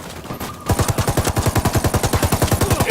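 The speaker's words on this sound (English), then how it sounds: "Open fire." Rapid automatic gunfire in a video game, a steady stream of evenly spaced loud shots kicking in sharply after a brief quieter moment, with no voices over it.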